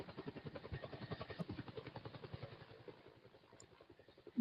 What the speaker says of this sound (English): Yes, I can drive the helicopter around.